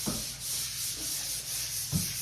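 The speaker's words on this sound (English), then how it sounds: "So we're just gonna give this a light sand." Soft rasping strokes of light sanding on a painted wall surface, close and fairly quiet, with brief scuffs repeating at a slow, even pace.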